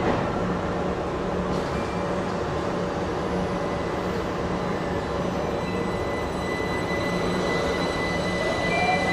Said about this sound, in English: And here comes our train now.